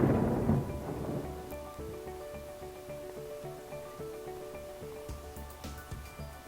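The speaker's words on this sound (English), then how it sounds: "And we have our first lightning storm now." Thunder rumbles loudly at the start of a lightning storm in the WorldBox sandbox game, fading into a steady backdrop beneath layered game music tones for the rest of the moment.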